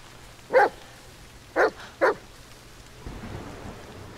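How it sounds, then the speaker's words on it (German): A dog barks outside in the video game The Medium, three sharp separate barks, the last two close together, over a faint low rumble of rain and wind. "Ich sehe den Hund da draußen."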